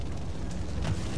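A short, low rumbling blast from a Duke Nukem video game explosion, dense and muffled, lasting about a second with no talk.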